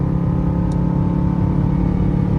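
A 2021 Dodge Durango RT engine drones loudly and steadily from inside the cabin during a paddle-shift upshift, a constant low rumble with no clear rev change.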